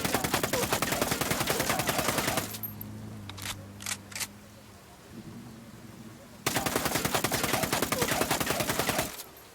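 Rapid automatic submachine gun fire rings out during weapons testing in a video game: two long, loud, continuous bursts with a quieter stretch between them that holds a few clicks and faint sounds.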